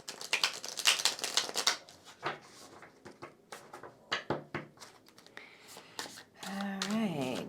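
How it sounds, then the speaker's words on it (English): Tarot cards from a Muse deck are shuffled by hand in a quiet room, a series of close, crisp riffling bursts and soft slaps separated by short pauses, with a brief voice near the end. "Let me shuffle here to get the energy nice and clear"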